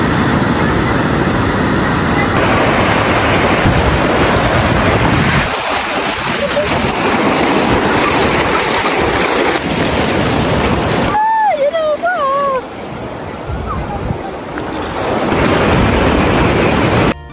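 Sea waves wash onto a beach in the early morning with a constant loud surf roar and wind buffeting the microphone, while voices talk intermittently and a brief higher-pitched cry appears partway through.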